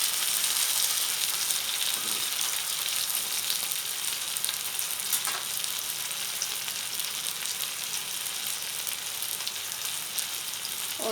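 Chapli kebabs sizzling and frying in a pan just after being turned, a dense, steady crackle that stays loud and even throughout with no one talking.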